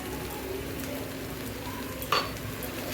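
A spoon stirs fried spice mix in a pan with sugar, making a soft steady scraping and faint sizzle, with a brief sharper clink near the end; quiet and close, no talking.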